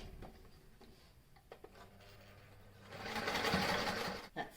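A home sewing machine stitches ties onto a homemade fabric face mask, with a soft fast whirring run near the end after quieter handling noises.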